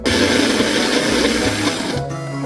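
A food processor whirs steadily, blending gelato with toasted marshmallow syrup, dark chocolate sauce and crushed graham crackers, a loud continuous motor drone that shifts pitch near the end as the mixture thickens.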